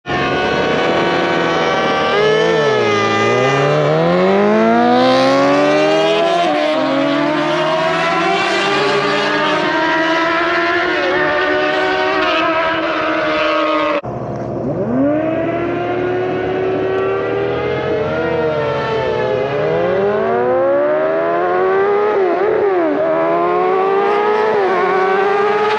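Two motorcycles, a 2003 Suzuki GSX-R 1000 and a 2006 Kawasaki Ninja 636, in a dig drag race: loud, continuous engine howl with rising pitch through repeated gear shifts, a brief break midway and then another hard acceleration run.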